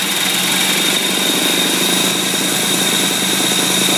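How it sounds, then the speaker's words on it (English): Steam-driven motor with a modified cam, fed from a gasification steam boiler and grid-tied, runs with a loud, steady mechanical drone and hiss that holds constant throughout, with no voices. "Right now, the steam is running the motor"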